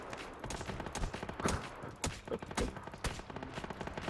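Rapid gunfire crackles in a PUBG match, with bursts of shots and fusillades packed densely together at moderate loudness and little talk over it.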